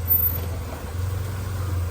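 An overhauled Toyota Vigo pickup engine running at idle, a low steady hum heard close up for a couple of seconds with no talk over it.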